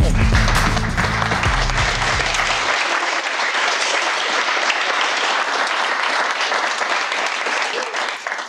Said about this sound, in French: applaudissements pour Lyon